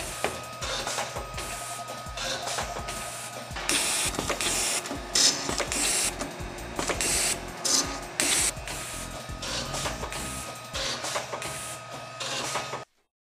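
A GANNOMAT Index Logic machine drills, glues and inserts dowels into cabinet components, producing a busy run of whirring drill bursts, pneumatic hisses and clacking strokes at close range with no talking.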